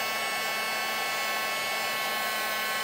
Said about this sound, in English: I have just an old heat tool. I don't even know the make of it, but any heat tool will work.